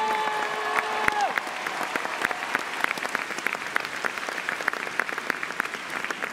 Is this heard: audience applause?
yes